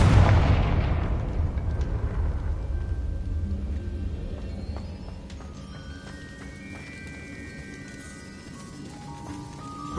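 A big fiery blast from the Confringo spell in Hogwarts Legacy booms loudly at the start, then decays into a long rumbling tail with faint magical tones ringing over it.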